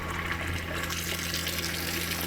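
Water runs steadily through the plumbing of an RV outside shower during sanitizing, a continuous hissing rush that is moderately loud with no pauses or talk.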